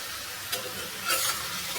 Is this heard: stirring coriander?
yes